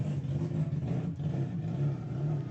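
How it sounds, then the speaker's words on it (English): A Honda drift car with a mixed LS-style and rotary-like setup idles loudly and steadily below at a drifting competition track, a deep continuous rumble with slight fluctuations throughout. "Jeff's car sounds like a freaking airplane idling below me right now"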